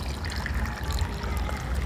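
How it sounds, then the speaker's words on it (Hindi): About three litres of water poured into a potted jamun plant on a rooftop, a steady close trickling stream running continuously without pause. "3 लीटर के आसपास पानी हमने डाल दिया।"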